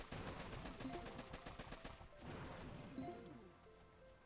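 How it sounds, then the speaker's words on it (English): Machine gun fire in the mobile strategy game Boom Beach, rapid rattling bursts of quick shots with impact crashes in two clusters, faint and set against game noise. "I don't want my warriors getting anywhere near close to that machine gun."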